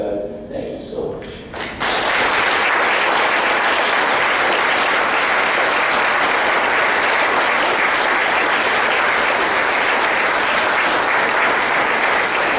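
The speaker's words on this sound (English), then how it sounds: "I'm just going to ask everybody to give you a round of applause" An audience at a keynote roundtable applauds the panel. A brief stretch of voices gives way to loud, sustained clapping that holds steady and close to the end.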